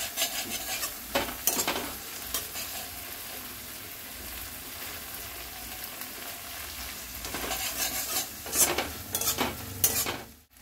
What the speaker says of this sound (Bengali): এটাকে আমরা ভালো করে কষিয়ে নেব।